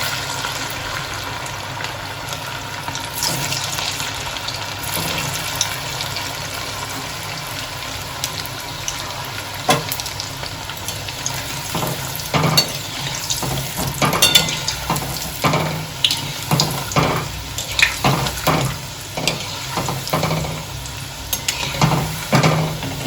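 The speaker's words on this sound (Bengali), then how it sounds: "আর এগুলো এইভাবেই ভেজে নেব।" Sago pakoras deep frying in hot oil, a steady close sizzle with intermittent clinks and stirring knocks of a utensil against the pan, growing busier toward the end.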